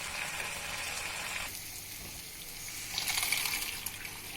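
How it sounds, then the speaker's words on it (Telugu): A little water goes into a pan of chana masala, a soft pour and gentle sizzle that cuts off midway and then picks up again more brightly near the end, close and fairly quiet with no talk. "దీనిలో కొద్దిగా వాటర్ వేసుకొని ఉడికించుకోవాలి."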